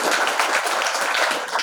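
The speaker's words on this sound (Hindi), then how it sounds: "तो एक बार उनके लिए पहले से ताली बजाओ।" Audience applause at a school event, a dense, steady burst of many hands clapping together at moderate loudness with no voices over it.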